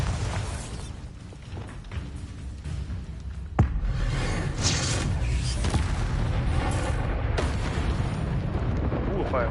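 Bombarda spell explosions in Hogwarts Legacy: a rumbling, booming game soundscape with a sharp blast partway through, then sustained loud rumbling and crackling bursts. A voice is heard faintly early on.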